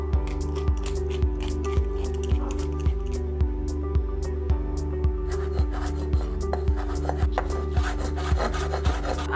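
Hands rub salt, pepper, olive oil and fresh herbs onto a raw pork tenderloin, making steady, evenly spaced wet squishing strokes close up over a constant low background hum.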